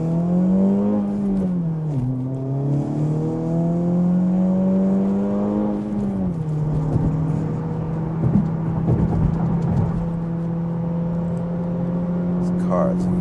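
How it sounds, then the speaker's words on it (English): Acura Integra Type S engine and stock exhaust while driving, a steady droning hum with resonant tone that rises and dips as revs change, heard from inside the cabin with faint rattles. "the stock exhaust is a little bit drony, a little bit of resonance bouncing off the interior"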